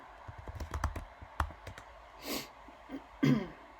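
A name is typed on a computer keyboard, a quick run of close, crisp key clicks followed by a pause and a cough-like breath.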